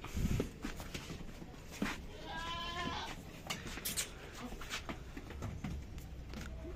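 Goats bleating at a farm where breeder goats are offered for sale, a few faint wavering calls over background rustling and footsteps, with brief voices nearby.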